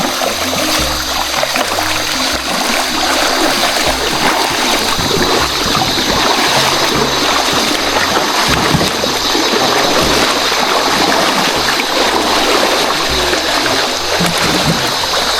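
River stream flowing in a rainy forest, a steady dense rushing wash of water, loud and close throughout with no pauses.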